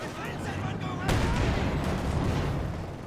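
Grease gun fire crackles through a busy video game battle, with a sharp burst and sustained rattling shots amid explosions, heard under a commentator's voice.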